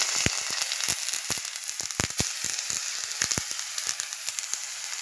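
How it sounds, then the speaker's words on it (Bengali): Chopped tomato dropped into leftover oil after frying pomfret fish, a steady close sizzle with sharp crackling pops scattered throughout. "এবার তেল কিছুটা রয়ে গেছে, ওই তেলেতে দিয়ে দেবো একে একে টমেটো কুচি"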